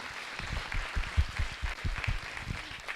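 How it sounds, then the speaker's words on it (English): Audience applause fills a municipal election candidate forum for Ward 1 and 2, a steady run of many hands clapping at close range for the full three seconds with no talk over it. "can we get a round of applause for Linton Sullen?"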